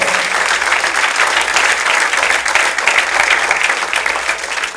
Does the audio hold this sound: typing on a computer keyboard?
no